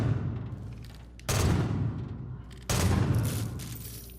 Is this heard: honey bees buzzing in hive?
no